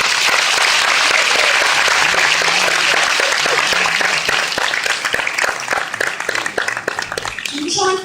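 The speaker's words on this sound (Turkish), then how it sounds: "Ekstra alkış onlar için istiyorum." A concert audience applauds the Kent Orkestrası at an İsmet İnönü concert, with loud sustained clapping and cheering that thins out toward the end.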